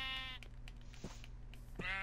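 Two Minecraft sheep bleats, one at the start and one at the end, each a wavering nasal call ringing out clearly over a steady low background hum.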